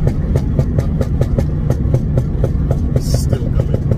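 A modified MK2 Ford Focus ST with a loud, aggressive exhaust, holding a steady engine drone with a rapid, regular train of popping pulses from the exhaust.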